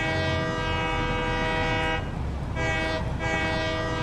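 A train rumbles along a track in the factory-building game Satisfactory, with a steady loud mechanical drone and sustained horn-like tones that dip briefly midway before returning.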